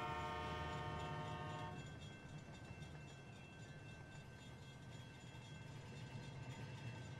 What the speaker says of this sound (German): Ja, das Hupen, das machen die total random.